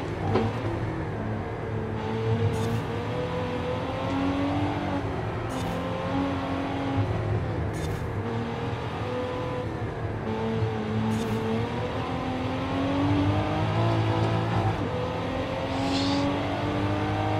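A 2022 Cadillac CT4-V Blackwing engine in Forza Horizon 5 drones steadily at high revs, its pitch rising and dropping through repeated gear shifts, with no talking.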